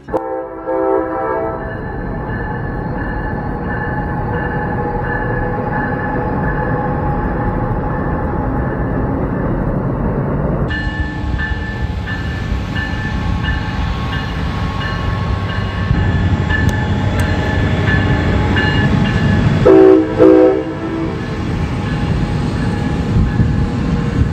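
A train crosses at Harpers Ferry with a continuous heavy rumble of rolling wagons, and loud horn blasts sound near the start and again near the end.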